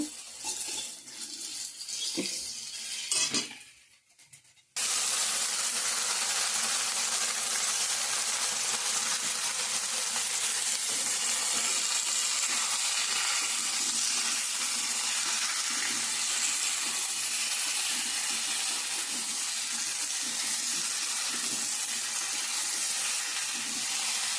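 Vegetables drop into tempered oil for a fish curry with potato and cauliflower, and after a few quieter clinks a loud, steady hiss and sizzle of frying takes over and continues unbroken and close.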